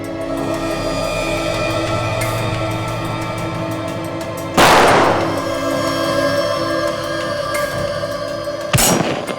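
Two sharp gunshot bursts ring out from played-back security camera footage, the first loud around the middle and a second near the end, over a steady background hum.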